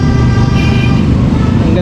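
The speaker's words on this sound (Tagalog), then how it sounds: "Ang ganda ng busina ni ano, ni kuya." A loud, sustained vehicle horn blares close by during a motorcade, holding steady for nearly two seconds over road noise.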